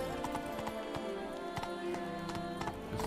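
Roach, a horse in The Witcher 3, trots with steady rhythmic hoof clip-clops, moderately close and fairly quiet, with no talk over it.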